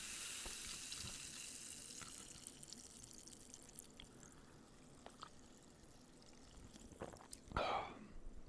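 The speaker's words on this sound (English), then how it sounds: "Cannot forget to pour out the Diet Coke fresh out of the fridge" Diet Coke straight from the fridge is poured into a glass, a soft fizzing trickle with faint drips and a brief louder splash near the end, quiet and close.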